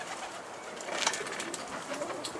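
Pigeons coo on a rooftop, soft low calls heard faintly at a distance for a couple of seconds amid outdoor background noise.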